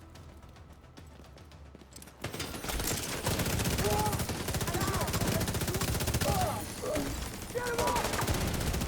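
Video game gunfire breaks out after a quiet start as rapid automatic bursts and a sustained fusillade, loud and close, with a shouted voice over the shooting.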